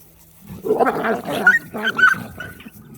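A dog growls and snarls in short, rough bursts, close up and fairly loud, during a correction.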